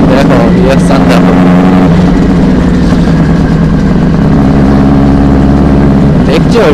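A Benelli 600i superbike with an SC Project exhaust rumbling loudly and close, with a deep, steady engine drone that rises slightly toward the end.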